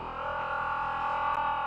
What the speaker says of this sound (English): So here's the spectral resonator,